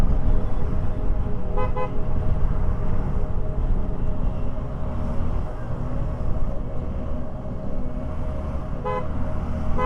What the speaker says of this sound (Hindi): Beating the Nashik traffic.